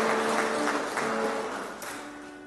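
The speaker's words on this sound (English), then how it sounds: "Please join me with a round of applause as we welcome him." An audience applauds to welcome an archbishop at a thanksgiving Mass at Hekima University College. The dense clapping is steady and fairly loud, then eases slightly toward the end.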